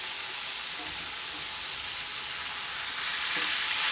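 Steak sizzling steadily in a new frying pan, a continuous bright crackle that swells a little as the meat is turned over, with faint stirring scrapes and no talk.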